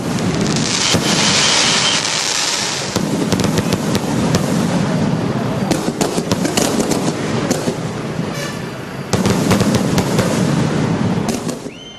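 A fireworks display in Sivakasi, the firecracker town, during a birthday celebration: dense continuous crackling and popping with sharp bangs, fizzing bursts and a thick roar of repeated explosions rolling on without pause.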